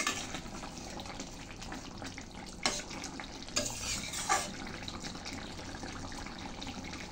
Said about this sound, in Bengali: এখন মিশিয়ে নিচ্ছি।